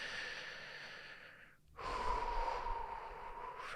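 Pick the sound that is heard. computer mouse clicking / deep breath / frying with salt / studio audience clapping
deep breath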